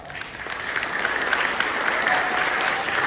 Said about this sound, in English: I want you to give yourself a round of applause, please. Clap for yourselves.